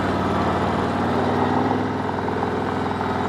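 A vehicle engine idles steadily after its dead battery was jump-started from a truck. The hum is low, even and continuous, close by and fairly loud, with no talking.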